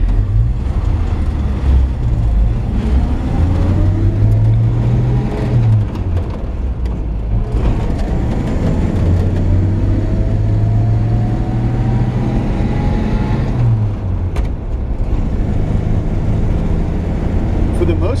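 A 1950 Chevrolet 3100 pickup, unrestored with a three-on-the-tree column shift, idles and revs steadily, a low droning engine note rising and falling in a few swells, close by and with no voices over it.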